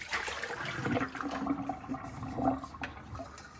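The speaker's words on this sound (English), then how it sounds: "First we're gonna empty out the water." Water pours out of a cat drinking fountain as it is emptied, a close, continuous splashing gush with some gurgling that rises and falls and then tapers off, with no talking.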